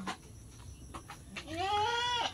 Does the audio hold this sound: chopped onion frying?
no